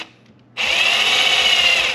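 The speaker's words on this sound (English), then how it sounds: "So just drill a hole here." A power drill spins up abruptly and bores a hole into a wood template, giving a loud, steady, high whine with a gritty cutting edge close to the microphone.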